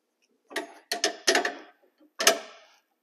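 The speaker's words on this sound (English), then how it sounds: "I'm going to tighten the switch up. So I got my wrench." A 1-inch wrench snugs an aluminum kill switch on a Spec Miata MX5 race car, giving four short close-up ratcheting clicks in quick bursts and then one more after a pause, with no talking.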